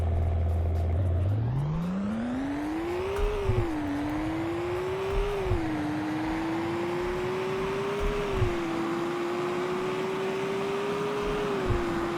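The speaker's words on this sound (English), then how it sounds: "Alright, I'm gonna floor it in 3, 2," A BMW 3 Series with a 6-speed automatic accelerating hard at full throttle, a steady rising engine drone that climbs through the gears with brief dips at each shift, loud and continuous throughout with no talk.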